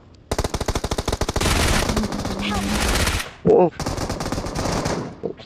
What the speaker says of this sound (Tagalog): Machine gun yan eh. Mahirap yan kalabanin.